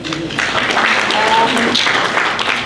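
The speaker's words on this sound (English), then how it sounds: "Let's give her a round of applause." A short round of applause from attendees at a security summit ideathon after an opera-style performance, brisk clapping mixed with murmuring voices over a few seconds.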